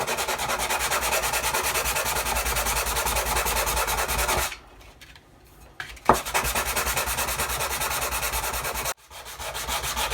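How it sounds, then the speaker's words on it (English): Sandpaper rubbing steadily over model battleship Yamato planking to key two surfaces before epoxy gluing; a close, continuous scratchy scrub that pauses briefly midway and again near the end. "just going to key up the 2 surfaces that we're going to glue today"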